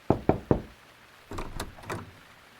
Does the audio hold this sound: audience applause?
no